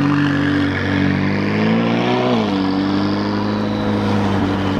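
A supercar pulls away on a short test drive, its engine a loud, close, continuous drone whose pitch bends and shifts midway as it revs, with no voices.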